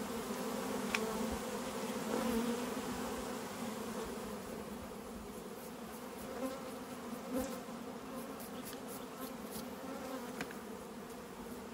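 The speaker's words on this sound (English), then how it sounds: "There are bees working their way back" Dense, steady buzzing of many honey bees around a hive fills the scene, a continuous droning hum with occasional louder passes of individual insects nearby.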